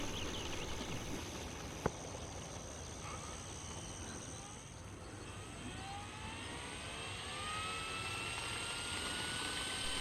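A Flightline F4U-1D Corsair RC model airplane with a 1600mm wingspan in flight on its maiden outing, its motor giving a continuous, steady droning whine at moderate distance with a faint outdoor wash.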